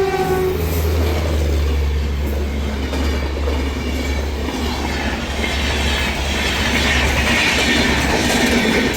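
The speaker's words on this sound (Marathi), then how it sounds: "diesel engine" A diesel locomotive train rolls past a railway station, a loud, steady rumble with a deep engine drone and rattling wagons that lasts the whole stretch, no voices.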